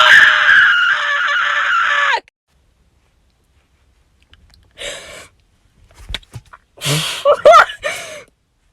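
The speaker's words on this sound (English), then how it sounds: "it's time for a little screaming session" A person inside a car parked at home lets out a long, loud scream, then after a silence gives short gasps, clicks and strained, whimpering outbursts, close and unaccompanied.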